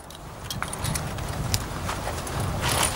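A horse moving on a hard surface, steady clip-clop hoofbeats close by over faint background noise.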